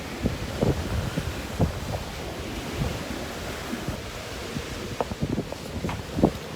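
Wind blowing by the sea, a steady rushing hiss with gusts thudding against the microphone at irregular moments, over a faint wash of distant surf, no talk.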